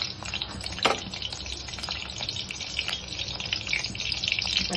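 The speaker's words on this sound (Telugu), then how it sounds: "బాండి పెట్టుకొని ఆవాలు జీలకర్ర వేసుకున్నాను. అవి వేడెక్కినాయి." Mustard seeds and cumin sizzling in a hot pan for upma, a steady close crackle with faint popping throughout.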